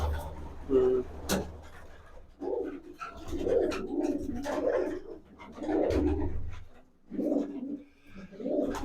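Pigeons coo in a dovecote in a village, several close, soft rolling coos in bursts, with low voices murmuring in between.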